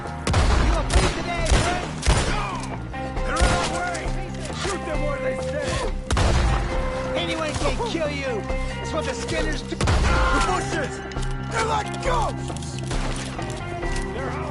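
Repeated gunshots and volleys ring out in a Red Dead Redemption 2 woodland firefight, loud sharp cracks and booms scattered through the scene over game music, with shouting voices in between.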